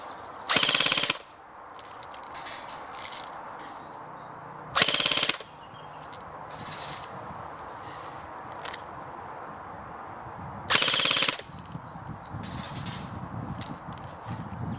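Three short, loud mechanical bursts of rapid airsoft gun fire at a metal target, each about half a second, separated by quieter ticking and faint clatter in between.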